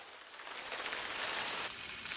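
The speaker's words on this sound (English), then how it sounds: "And there we go, my finished rain stick." A homemade Amazon rainforest rainstick pours out a steady, soft hiss of trickling grains, building slightly and then easing off, heard close and alone.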